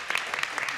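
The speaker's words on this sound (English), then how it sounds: "Maybe we can clap hands." Brief, faint scattered hand clapping from a small audience after a talk on invisible languages, a few quick claps in under a second.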